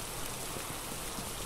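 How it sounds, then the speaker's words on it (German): Rain in the video game Phasmophobia, a dense, even hiss of falling drops that stays constant and fairly close for a brief moment, with no voices. "Es regnet, die Erde wird nass."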